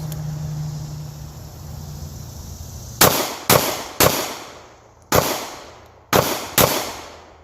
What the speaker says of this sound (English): Now let's see if we can put some faster shots down range and keep it on target.